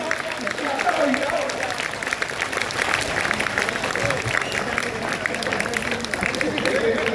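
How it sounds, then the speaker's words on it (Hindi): Crowd applause fills a kavi sammelan poetry gathering in Rasulabad, a steady wash of many hands clapping at once with voices mixed in. "एक बार तालियां बजाते अपने अपने आंगन की बेटियों के लिए"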